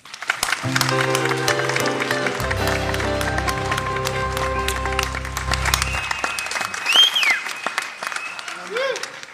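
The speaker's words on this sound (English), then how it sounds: "So let's hear it for our announcer who did one spectacular job, Mr. Richard Erdman." A studio audience applauds the announcer on a radio variety show, with a steady, loud round of clapping that runs the full length over band music, while a voice speaks briefly.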